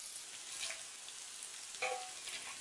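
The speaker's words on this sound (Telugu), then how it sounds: "తర్వాత కరివేపాకు, పచ్చిమిరపకాయలు వేసుకుని వేపుకోవాలి." Cumin, curry leaves and green chillies fry in a pan for a Telugu-style beetroot fry, giving a steady close hiss of oil with a brief louder crackle burst partway through.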